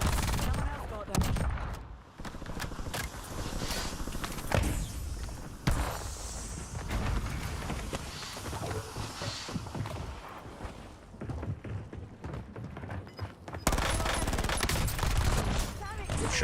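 Gunfire in the battle royale shooter Warzone: dense, sustained bursts of automatic fire and scattered shots, loud and close, with voices talking over the fighting.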